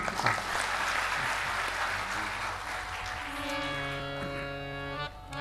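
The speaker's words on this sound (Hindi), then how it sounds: "ताली बजा दीजिए" Audience applause at a devotional Ram katha gathering greets a visiting Bhagavat preacher. The clapping is soft and diffuse for about three seconds, then gives way to sustained, steady musical tones.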